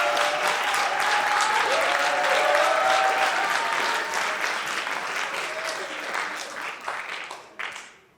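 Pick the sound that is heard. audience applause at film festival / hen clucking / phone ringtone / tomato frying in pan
audience applause at film festival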